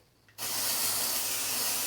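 Dry shampoo aerosol sprayed onto hair: after a brief quiet moment, a loud, steady, close hiss starts abruptly and continues unbroken to the end.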